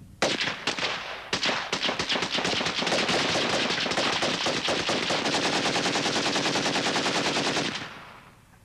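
Kalashnikov rifles fire during fighting in the 1993 Bosnian war, several sharp single shots giving way to sustained, loud automatic bursts that run on for several seconds before cutting off.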